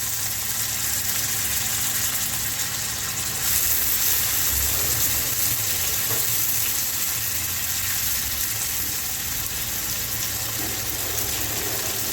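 Chopped tomatoes hit a hot pan and sizzle steadily in home cooking, a constant broad frying hiss that stays even and close for several seconds, with no talking.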